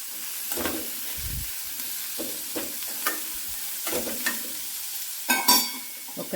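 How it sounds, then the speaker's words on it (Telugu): Onions and chana dal frying in a pan, a steady close sizzle with repeated scraping stirs and light clatter, a sharper clink near the end. "వీటిని మంచిగా గోల్డెన్ బ్రౌన్ కలర్ వచ్చేంత వరకు వేయించుకోవాలి"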